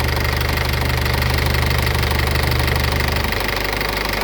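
An Isuzu NKR six-wheel truck's diesel engine runs steadily with a rough, knocking rumble, close and loud, holding an even level throughout without voices.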